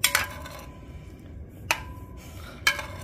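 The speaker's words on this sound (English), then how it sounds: "So guys, I'm giving it a little stir." Spoon clinks against a cooking pot of smoked herring in three brief, bright metallic taps spaced about a second apart, with quiet room hiss between them.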